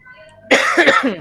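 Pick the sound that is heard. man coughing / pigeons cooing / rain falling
man coughing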